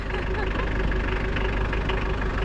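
A diesel engine idles in a steady low rumble with a faint rhythmic knock, close and continuous, while people talk over it.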